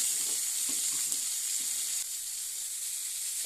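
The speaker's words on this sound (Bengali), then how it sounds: "পেঁয়াজগুলো ভালোভাবে ভাজা হয়ে গেছে ভালো করে। এবার যে ধনা পাতার ডাঁটগুলো ছিল ওগুলো দিয়ে দিব।" Onions and coriander stems fry in a hot pan for a steamed moya fish dish, giving a steady, close, dense sizzle with faint stirring scrapes and no talk.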